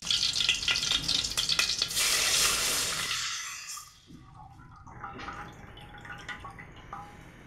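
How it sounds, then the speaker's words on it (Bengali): Ghee sizzling in a pot while halwa fries, a dense bright hiss that is loud and close at first, then drops away to quieter crackles and soft scraping, no voices. "এখন ভাজার জন্য ঘি ঢেলে দিচ্ছি।"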